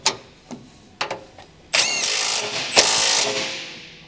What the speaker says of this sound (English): Use a 21mm wrench together with a 21mm deep socket and electric impact wrench to tighten the track bar mounting